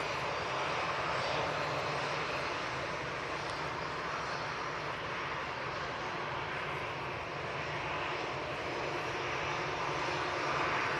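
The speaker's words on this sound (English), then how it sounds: "let's get this Ryanair. 737-800, and as Liz says, it's coming in from Rome." Ryanair Boeing 737-800 airliner landing after arriving from Rome, a steady broad jet roar held at even loudness for about eleven seconds, fairly distant with no talk.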